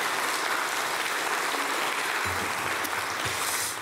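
A church congregation breaks into loud, dense applause that fills the room and continues steadily from start to finish.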